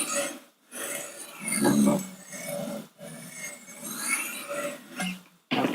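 Knife sharpening on a Wicked Edge Go sharpener, a series of rasping strokes in uneven bursts separated by brief pauses, close and fairly loud.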